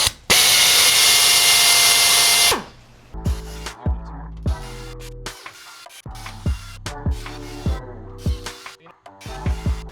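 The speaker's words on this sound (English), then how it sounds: "Here at the shop, we find they set the best when we use this pneumatic tool." A pneumatic air tool sets an 8mm rivet nut, opening with a loud continuous air hiss. A series of short sharp bursts and clicks follows, close by, without talking.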